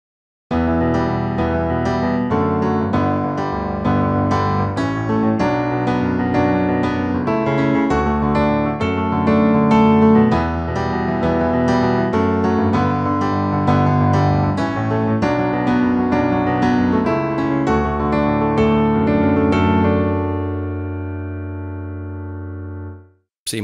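Solo piano plays the melody of a song over left-hand chords at a steady pace for about twenty seconds. The final chord rings out and decays.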